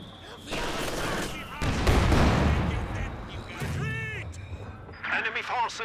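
Rapid gunfire and close-range heavy mortar blasts in a World War II strategy game match, dense overlapping bursts with a loud thump in the middle, under excited commentary.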